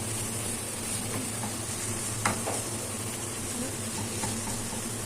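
Food cooking for a Ramadan breakfast of stuffed pigeon, country chicken and samosas, stirred in a pan with a wooden spoon: a steady close sizzle and hiss with faint scraping, and one brief knock near the middle.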